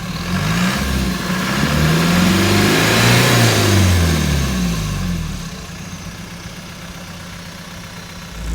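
Land Rover Defender 90 with a straight-through exhaust revs up loudly, holds high for a few seconds, then drops back to a rough, steady idle, heard up close without talk.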